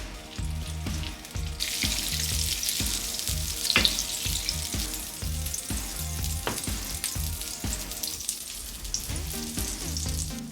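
Pancakes sizzle steadily in a hot pan for a diner-style breakfast, with a bright continuous fry hiss broken by repeated utensil clinks and a brief clatter as they are flipped, close and alone without talk.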